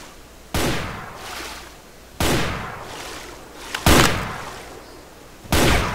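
Enemy gunfire in Doom 2 Remaster on PC: four separate loud, booming blasts spaced about a second and a half apart, each trailing off in a short echo, with no voices.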